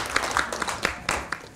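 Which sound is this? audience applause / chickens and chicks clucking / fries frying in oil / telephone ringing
audience applause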